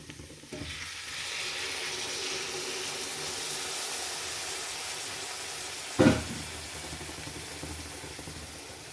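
Boiling water poured into a hot pan of asparagus-root and papaya pickle masala, a sudden loud rushing sizzle that holds steady for several seconds, with a sharp clank partway through, close and without talk.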